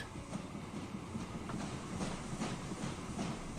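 A train running in the video game Transport Fever 2, with a steady rolling rumble and soft rhythmic clickety-clack of wheels, faint and continuous with no talk.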